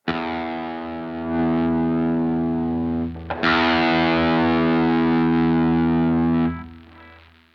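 An electric guitar through a Marshall JVM 410 amplifier on its OD2 overdrive channel rings out two heavily distorted sustained chords, loud and close, each fading away, with no talking.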